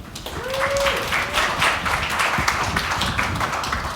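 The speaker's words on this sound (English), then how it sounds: "big round of applause for Amy." An audience at a product talk applauds a speaker with steady, fairly close clapping for about four seconds, plus a short whistle-like tone early on.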